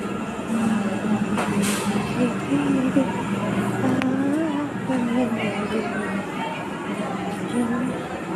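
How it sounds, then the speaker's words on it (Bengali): A train eases slowly into a station with a steady, continuous rumble. Crowd chatter and several voices run over it throughout. "কি আস্তে করে ট্রেনটা ঢুকছে দেখো"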